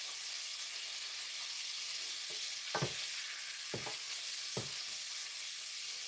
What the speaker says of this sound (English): I'm just lightly sauteing these to kind of bring out the flavor